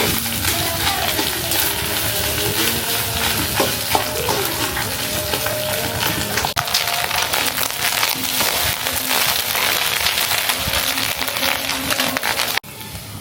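An egg fries in a pan, being cooked until well crisped, with a continuous close sizzle, frequent crackles and occasional scraping or stirring clatter, ending in a brief cut near the end.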